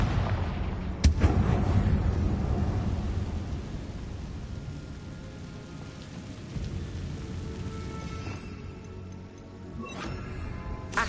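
Confringo blasting spell cast in Hogwarts Legacy, a sharp explosive crack followed by a long rumbling roar that slowly fades, with a couple of smaller bursts later.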